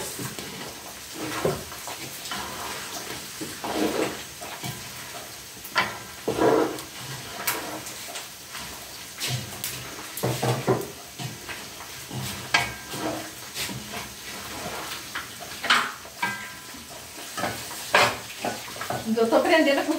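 Pork rinds fry in hot fat on a wood-fired country stove, giving a steady crackling sizzle with frequent pops and stirring clatters throughout, moderately close with no talk.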